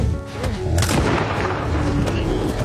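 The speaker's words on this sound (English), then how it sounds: "the gunshot enraged the beast again" A hunting rifle shot from a bear attack scene in the 2015 film The Revenant rings out loud and close, a heavy booming blast followed by rumbling reverberation and movie ambience, with a second sharp report near the end.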